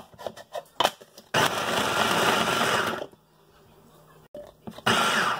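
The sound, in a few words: blender blending garlic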